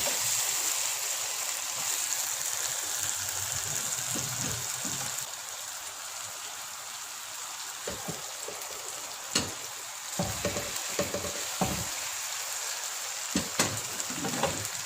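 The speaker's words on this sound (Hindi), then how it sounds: "मीडियम फ्लेम पे अब इसको पकाएंगे" Chicken biryani sizzling and frying in a pot over a medium flame, a steady close crackle and hiss with scattered louder spits and stirring knocks toward the end.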